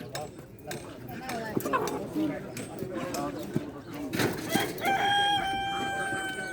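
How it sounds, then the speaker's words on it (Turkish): At a poultry market, a bald rooster crows near the end, drawn-out and tonal, after stretches of clucking and background voices. "İçeride bir tane kel var. Kel horoz."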